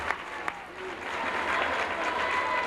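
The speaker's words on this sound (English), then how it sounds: "We have a big crowd here tonight." A big crowd of 500–600 applauds in the Eastern Nazarene school gym at a girls' volleyball game between North Quincy and Quincy, a dense, sustained wash of clapping that swells slightly, with a couple of sharp claps early on.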